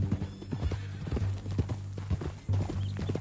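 Horse hooves clip-clop steadily on the ground in Red Dead Redemption 2, a repeated close rhythmic trot with a brief whinny-like tone, over a low steady hum.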